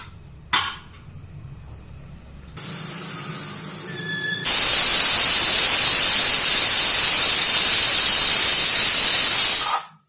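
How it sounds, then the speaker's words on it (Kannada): A pressure cooker cooking sambar vents a loud, continuous high-pitched hiss of steam for several seconds after quieter kitchen noises, then cuts off abruptly. "ಕುಕ್ಕರ್ ಕೂಗಿದೆ."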